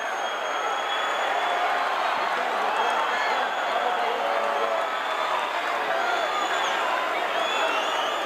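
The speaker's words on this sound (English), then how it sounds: "This massive capacity crowd here at the Sam Houston" Capacity wrestling crowd packed into the Sam Houston Coliseum for an AWA title match, a dense, continuous roar of murmuring, shouting and scattered cheers filling the building, with a commentator talking over it.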